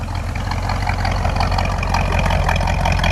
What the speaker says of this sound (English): Got a couple of turbo mufflers on it that sound real good too. Gives a little throaty sound.